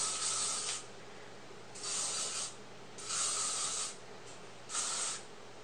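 Hairspray hisses from a can onto short to medium hair being styled into beachy waves, four separate bursts of about a second each with quiet gaps between, close and crisp.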